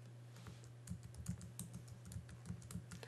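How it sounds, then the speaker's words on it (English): Keys on a computer keyboard are pressed in quick bursts while saving a web page, a run of soft clicks and taps at moderate distance over a steady low electrical hum, with no talking. "I can either use my keyboard shortcut"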